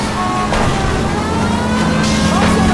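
Engines from cars in an illegal street race in a video game roar loud and close at 1st and Santa Fe, a continuous revving drone with brief surges.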